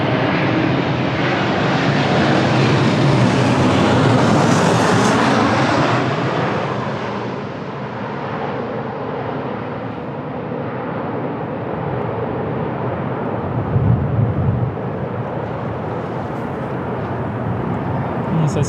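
An airliner comes in to land at Lisbon Airport on a windy day, a loud, sustained jet roar that swells early, then eases into a steady rumble, with a voice talking over it.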